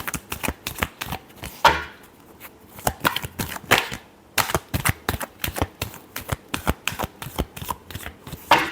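Tarot cards being shuffled by hand, a rapid run of crisp riffling snaps and flutters in uneven bursts, close and fairly loud, with no voices.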